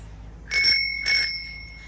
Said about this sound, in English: I haven't seen ever yet stroller with the bell, but that's cool.